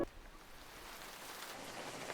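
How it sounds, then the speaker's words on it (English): Rain falls steadily, a soft, even hiss of drops throughout, fairly faint and continuous with no other sounds. "Dude, why is it freaking raining?"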